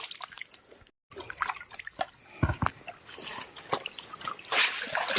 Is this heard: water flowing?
yes